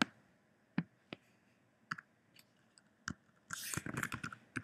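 Keys on a computer keyboard clicking as a math expression is entered into a text box, first as scattered single taps, then as a faster busy burst toward the end, close and fairly quiet.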